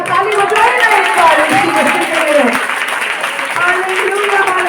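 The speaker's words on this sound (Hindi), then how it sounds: "हाथ बजाए ना उनका, ताली बजाए ना उनका।" An audience at a ladies' church seminar claps along, a dense, loud wash of hands sustained throughout with crowd voices mixed in.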